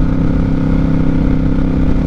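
A motorcycle riding along a curvy road in Ohio, its engine a loud, steady drone close to the microphone with no pauses.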